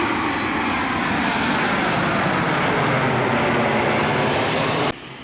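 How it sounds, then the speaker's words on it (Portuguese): A low-flying airplane roars overhead near Guarulhos airport in São Paulo, a loud, broad, continuous engine roar filling the whole span before dropping off sharply at the end. "E minhas irmãs que amou ver esse movimento de aviões e o barulho estremecedor."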